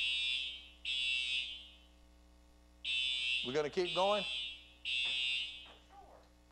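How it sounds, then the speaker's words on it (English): Fire alarm sounds in repeated loud, high-pitched buzzing blasts separated by short pauses, while someone talks over one of the blasts. "I think we've got an alarm going off."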